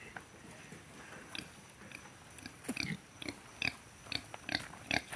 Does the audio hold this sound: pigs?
yes